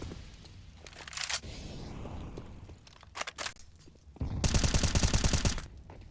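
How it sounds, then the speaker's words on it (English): Rapid gunfire bursts in a Counter-Strike esports match on the Inferno map near the B bomb site, with sharp shots and a loud sustained burst near the end, heard over game noise. "First burst didn't connect, second did, and Krad is right there to help recover the"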